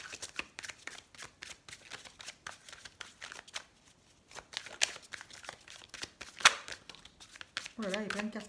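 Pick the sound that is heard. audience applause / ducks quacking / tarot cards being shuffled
tarot cards being shuffled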